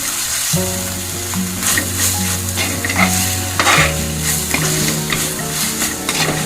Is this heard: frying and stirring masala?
yes